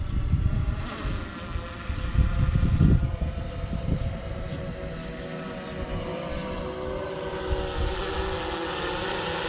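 A DJI Mavic 2 Zoom drone flies in to land, its steady motor whine and propeller buzz broad and continuous, swelling briefly as it nears, with no talking.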